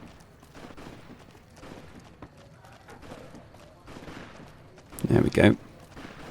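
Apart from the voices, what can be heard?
gunshots in the video game Fallout New Vegas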